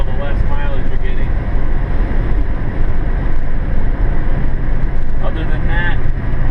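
A 1966 Plymouth Barracuda engine drones steadily while driving, a loud continuous low rumble with road and wind roar, someone talking over it throughout.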